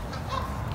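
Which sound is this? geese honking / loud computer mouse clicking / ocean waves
geese honking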